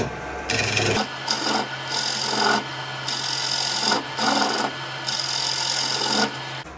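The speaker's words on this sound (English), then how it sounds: "I'm just going to use my parting tool and be very careful" A parting tool cuts into a bur oak sink blank spinning on a wood lathe at about 600 RPM, giving a steady close rasping scrape in repeated strokes with short pauses, over a constant low motor hum.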